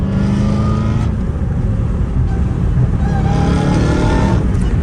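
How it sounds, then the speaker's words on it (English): A Hellcat Redeye's engine drones and revs steadily through valve mufflers, loud and close, with a low rumble that swells and eases. "why is my exhaust so quiet, bro? These valve mufflers really killed it"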